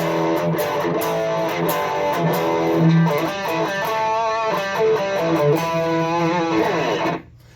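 An electric guitar plays through the small internal speaker of a BOSS Katana amp head, giving a driven, distorted tone. The chords and melodic lines sound steady and fairly loud, then cut off abruptly at the end.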